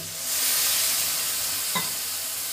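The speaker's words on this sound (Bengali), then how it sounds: "জলটা দিয়ে আমি একটু নেড়ে চেড়ে নেব।" Sprouted chickpea curry with Kashmiri chilli powder and a little water being stirred in a pan, giving a steady soft sizzle with one brief scrape of the spoon near the end.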